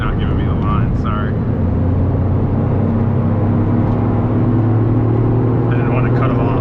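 A Toyota Yaris GR accelerating on the Nürburgring Nordschleife, its engine droning steadily and loudly with a rising tone from inside the cabin, under a persistent roar of road and wind, while a voice speaks briefly.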